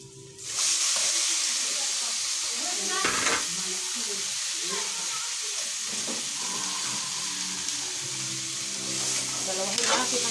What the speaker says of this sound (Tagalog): Igisa natin ang manok.